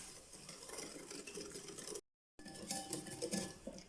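A whisk stirs a starch mixture into 100 ml of cold milk in a bowl, with close, quick scraping and clinking strokes that break off for a moment and then resume, with no talking.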